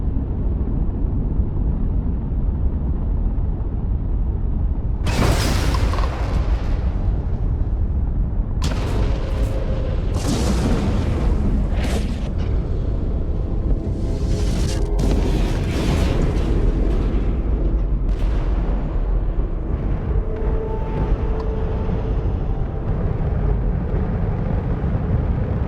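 A ship blows up in the Starfield video game, heavy booming explosions breaking out in several loud bursts over a deep continuous rumble, with crackling debris and rolling blasts that linger and slowly fade.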